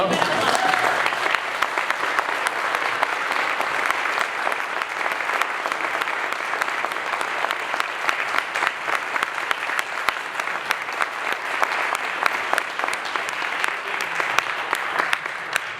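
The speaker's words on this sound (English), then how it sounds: "we can give them applause first" Audience applause at a district climate candidate forum, a sustained, even roar of clapping from a seated crowd that continues at steady loudness for around sixteen seconds, with some talking beneath it.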